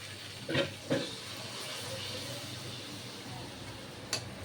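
Coconut milk goes into a hot pan of prawn masala for a Bengali bagda chingri malaikari, raising a soft, steady hiss of steam with a few brief louder splashes and no speech.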